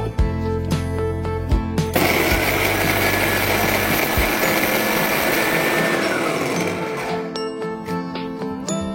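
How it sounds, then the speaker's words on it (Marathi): A mixer grinder whirs loudly and steadily as it grinds roasted Kolhapuri masala, a sustained motor roar running for several seconds before winding down, with clicks of the jar before and after. "आता मी तो मिक्सरला वाटून घेते."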